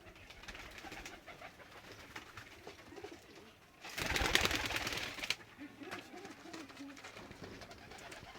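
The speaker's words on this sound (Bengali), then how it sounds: "কালদম পায়রা হবে।" A pair of Kaldom pigeons coo softly and repeatedly nearby, with a louder burst of rustling, flapping wings in the middle before the gentle cooing resumes.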